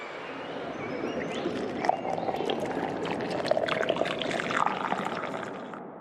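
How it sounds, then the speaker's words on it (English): Liquid, presumably Kool-Aid, pours steadily and continuously for several seconds at moderate loudness, with a rushing, splashing texture and a few brighter gurgles; there is no speech. "It sounds like the pouring of Kool-Aid"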